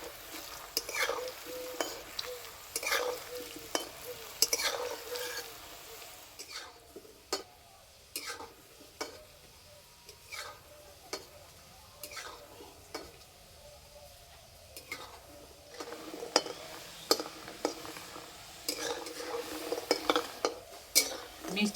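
Small gulab jamun sweets frying in hot oil in a pan, a low steady sizzle broken by repeated sharp clinks and scrapes of a spoon stirring them, close up and without talk.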